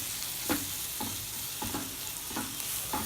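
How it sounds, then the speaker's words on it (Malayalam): Spoon scraping and stirring through coriander and chilli powder in a pan of frying chickpea curry, a steady sizzle broken by several distinct stirring strokes at a regular pace, close and alone. "ഇതും കൂടിയും ചേർത്ത് നല്ലപോലെ പച്ചമണം ഒന്ന് മാറുന്ന വരെ നമുക്കിത് നല്ലപോലെ ഒന്ന് ഇളക്കാം"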